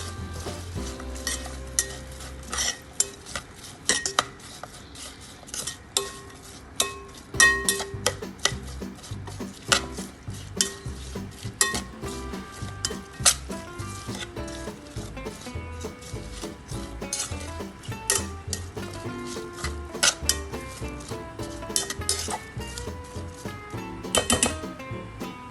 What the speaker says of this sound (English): Then let's give it a good stir.